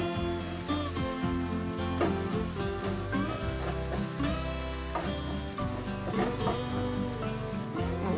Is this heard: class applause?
no